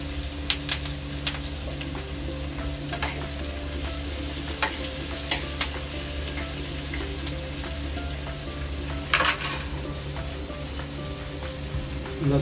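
Ginger sautés with onions in a hot pan, a steady soft sizzle broken by scattered clicks and scrapes of stirring, close and alone with no talk.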